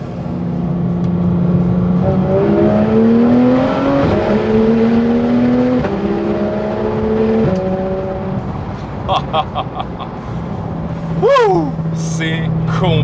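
Porsche 991 GT3 RS engine accelerating hard on a road, rising loudly through several gears with a steady, high-revving howl, then clear shift blips and a final rev that drops back to a cruising drone.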